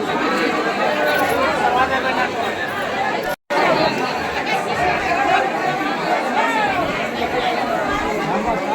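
A dense crowd murmurs and chatters continuously in the queue at Jyotiba temple, many voices overlapping into a steady, fairly loud babble, broken by one brief silent cut.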